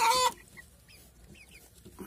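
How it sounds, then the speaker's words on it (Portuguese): A hen near a backyard coop in the rain gives a loud, brief cluck right at the start, then only faint scattered clucks and soft rain-damp background noise follow. "tem uma galinha ali embaixo"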